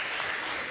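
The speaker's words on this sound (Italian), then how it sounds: "un grazie, un applauso per questa partecipazione" Brief burst of audience applause at a high school institutional meeting, dense and steady for under a second.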